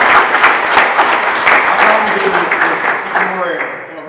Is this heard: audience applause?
yes